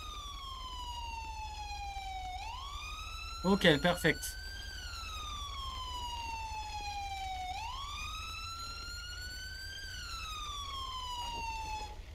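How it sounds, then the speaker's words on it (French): Ambulance sirens wail as they arrive code 3 in the LSPDFR police game, a loud rising and falling tone sweeping slowly through the whole stretch, broken by a short burst of rapid yelps, with a brief spoken remark. "les ambulances, j'entends qu'elles arrivent en code 3"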